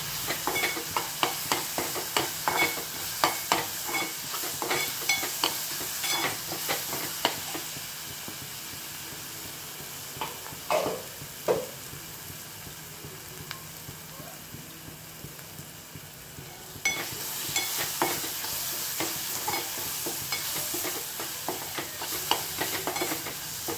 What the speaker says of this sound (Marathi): 1-2 मिनิटं आपण चटणी परतवून घेऊ।